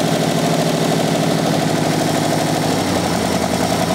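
An old engine fitted with two carburetors idles steadily and loudly, a dense, even rumble with a faint knocking pulse running throughout; one carburetor is pulling no suction.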